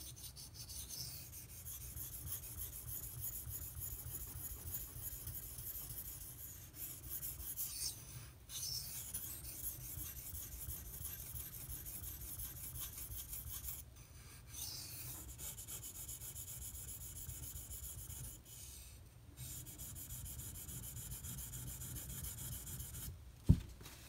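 An S90V steel knife is stroked across King and Suehiro Cerax whetstones, giving a steady, continuous rasping scrape that runs nearly unbroken, with brief pauses and a small knock near the end.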